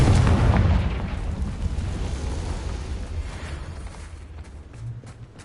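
Hogwarts Legacy Confringo spell explosion, a loud booming blast at the start that rumbles and slowly fades over several seconds with crackling debris, no talk over it.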